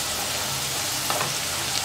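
Garlic sautéing in hot oil for a Tamil poondu kuzhambu, a steady close sizzle with a faint stir of the pan partway through, heard alone without any talking.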